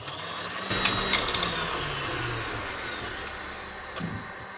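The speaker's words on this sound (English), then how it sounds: "turn the mixer on to full speed for a couple of minutes" An electric mixer runs at full speed, whisking egg yolks and sugar for chocolate mousse. It gives a loud continuous whir with a few brief bumps near the start and no talking.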